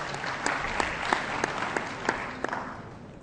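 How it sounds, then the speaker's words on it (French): Scattered, sparse clapping at a closing ministerial speech, heard as a handful of distinct claps spaced about a third of a second apart over a soft background murmur. "vous les applaudissez encore"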